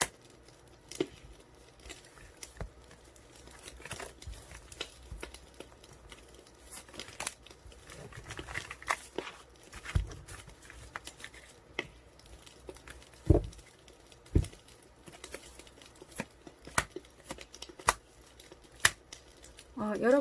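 Tarot cards being shuffled and drawn during a reading, with soft scattered riffles, slaps and paper-like crinkles under someone speaking quietly throughout.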